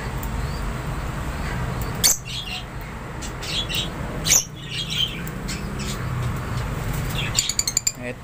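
A young Green Opaline Ino budgie chick, one of two nestlings with yellow feathers, gives two sharp squawks close by over steady low background noise, followed by a quick burst of chirps near the end.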